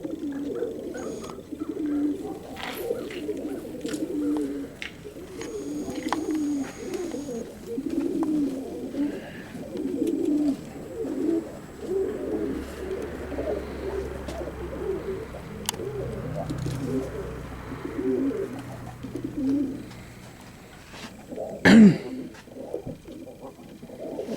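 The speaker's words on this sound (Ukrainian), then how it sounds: "Голуби ну, хороші, любов." Pigeons coo softly and repeatedly in a low, rolling murmur, with a brief louder flutter or knock near the end.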